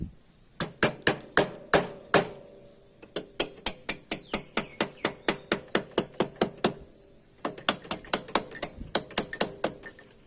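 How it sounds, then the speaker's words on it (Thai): A rubber mallet strikes engine parts while a Honda Wave 110i motorcycle top end is assembled, giving close, sharp, repeated knocks in quick bursts with brief pauses between runs. "อันนี้เป็นค้อนยางนะครับผม"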